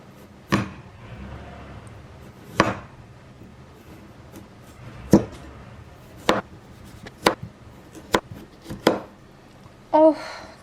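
Knife chopping carrots into thin strips on a cutting board in a home kitchen, about ten sharp, separate cuts spaced irregularly, near and fairly quiet, with low room noise between them.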